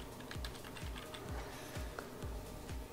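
Quick, light keystrokes on a computer keyboard spell out a short word, about a dozen close, crisp taps in an irregular rhythm against a quiet background.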